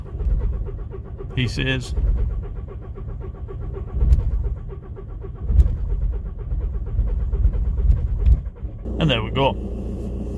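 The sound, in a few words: VW Golf Plus 1.9 TDI engine cranking then starting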